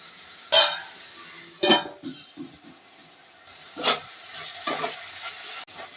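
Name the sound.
onions and tomatoes cooking in a pan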